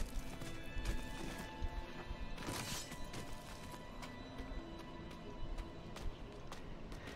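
A horse galloping in the video game Diablo IV, with steady clip-clop hoofbeats running continuously under a busy game soundscape and an occasional whinny.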